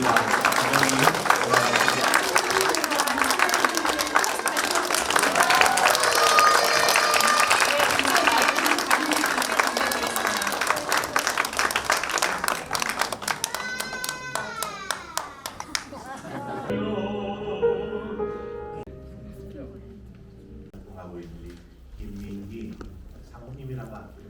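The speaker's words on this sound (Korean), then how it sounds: "우리 박수로 환영해서 감사합니다" Audience applause at a church concert, a dense sustained clapping crowd that fills the first half, then thins and fades as music and talk take over toward the end.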